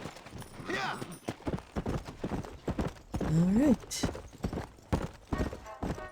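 Horse hooves clop on the ground in the Western video game Red Dead Redemption, irregular close strikes mixed with a neigh, while people talk over the sound throughout.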